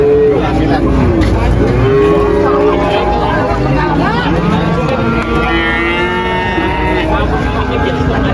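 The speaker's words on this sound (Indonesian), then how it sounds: "Ada sapi simital, tanduk ya, sapinya bagus" Simmental cattle at a livestock market, loud overlapping moos and lowing calls from several animals amid busy crowd chatter and background noise.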